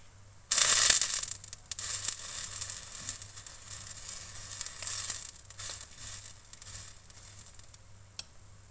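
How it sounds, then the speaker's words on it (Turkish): Gözleme flatbread made from ready-made yufka sizzles and crackles in a hot oiled pan, a steady frying hiss with small pops and rustles throughout. "Şimdi diğer tarafını da kızartıyorum."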